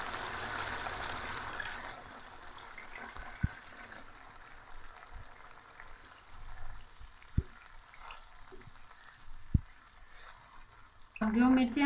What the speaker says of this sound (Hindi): आधा कप इसमें पानी शामिल कर लेंगे